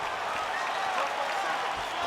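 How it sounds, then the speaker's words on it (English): A UFC arena crowd roars and claps in reaction to an outside leg kick landing in a women's bout, a dense, sustained wash of cheering and applause with commentary voices mixed in. "can you hear the reaction from the crowd as another outside leg kick lands?"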